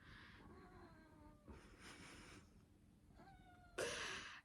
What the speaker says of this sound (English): I'm sure you can hear that meowing